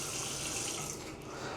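Hot water gushes steadily from a hotel bathroom sink tap, a close, continuous rushing splash with no talk over it.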